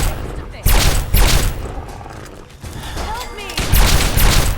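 Gunfire in modded Fallout 3 on PC: several loud, close blasts and bursts of shots mixed with booms and mechanical clanks, with a voice shouting briefly partway through.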